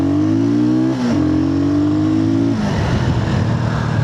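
Sothassi 400 Classic motorcycle accelerating hard, its engine note climbing through a gear, briefly dipping at a shift, then rising again with loud, close, continuous exhaust roar.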